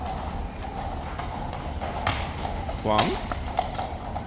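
Horses of the King's Troop Royal Horse Artillery, their hooves clip-clopping on hard ground as sparse, moderate taps over outdoor crowd murmur, with someone talking nearby.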